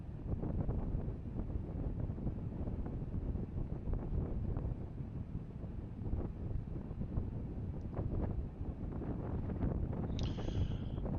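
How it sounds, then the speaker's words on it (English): Steady gusting wind buffeting the microphone outside an RV in Quartzsite, low rumbling roar with fluctuating intensity, continuous throughout with a brief faint high chirp near the end. "You can hear the wind"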